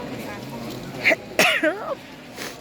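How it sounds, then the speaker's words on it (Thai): A single sharp human sneeze bursts out in a lively outdoor gathering, preceded by a short catch of breath, with murmuring voices and background noise around it. "จาม"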